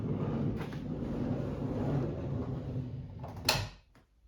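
Rear sliding door of a 2021-or-later van opened by hand, with a low rumbling slide that ends in a sharp clunk and then goes quiet.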